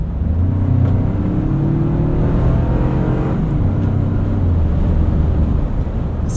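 A 2025 Toyota 4Runner Platinum in sport mode accelerates hard, its engine note climbing steadily in a loud, continuous drone heard from inside the cabin, with one brief dip partway through before the pitch rises again.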